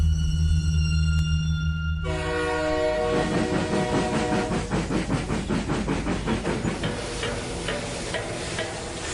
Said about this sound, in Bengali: হরিপুর স্টেশনে ট্রেন থামার সাথে সাথে এক লাফে নেমে দাঁড়ালো তিমির।